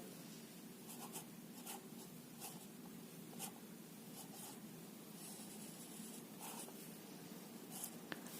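A pen writes numbers by hand during a maths lesson, a faint close scratching that comes in short strokes and pauses against a quiet background hum.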